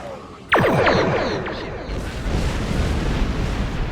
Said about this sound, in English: Now here is the torpedo under Torpedo Spread 3